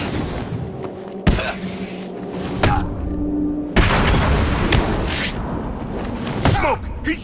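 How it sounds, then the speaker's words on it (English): A smoke grenade goes off in Batman: Arkham City, heard as a few sharp booms and thuds spaced apart amid game ambience, with character voices talking in between. "Smoke! He's used some kind of grenade!"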